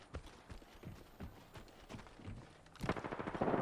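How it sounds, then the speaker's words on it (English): Gunfire in the battle-royale shooter Apex Legends: scattered shots cracking through the first seconds, then a denser, louder burst of rapid automatic fire near the end, with no talk. "They're firing on me"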